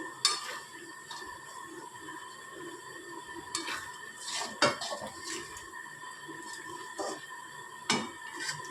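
A utensil scrapes and clinks against a pan as a sticky sesame sweet mixture is stirred, giving a quiet, irregular rhythm of metallic taps and scrapes with no talking.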